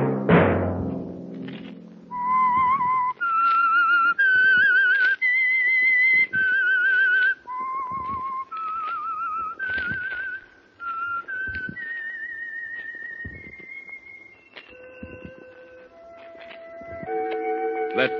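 A clear, melodic whistled tune, sustained notes rising and falling in a slow, eerie theme, heard alone and close; the theme of the radio program The Whistler.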